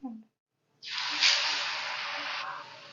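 Homemade evening snacks are dropped into hot oil, setting off a sudden loud, steady frying hiss that carries on for about two seconds, after a brief voice at the start.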